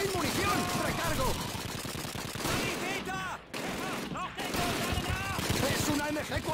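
Rapid MG-42 machine gun bursts in the Call of Duty 2 PC game, loud and dense throughout, with shouted voices and other battlefield gunfire mixed in and a brief drop near the middle.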